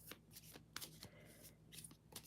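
Tarot cards are shuffled by hand in quiet, soft bursts of riffling and slapping. The sound is faint and close, with short pauses between the flurries.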